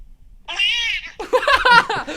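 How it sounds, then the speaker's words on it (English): A cat held up to a Ring doorbell camera meows twice in quick succession, close and loud, the second call longer and more strained. "This cat that this guy holds up to the doorbell camera. like the Ring doorbell, and he just meows in it."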